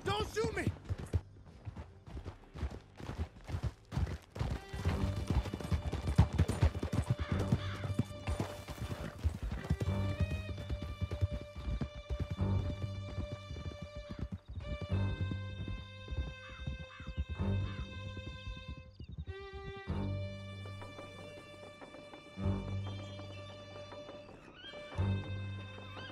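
Horses ride in Red Dead Redemption 2 with rhythmic hoofbeats clip-clopping close by. A horse neighs, and voices and a musical score sound over the galloping.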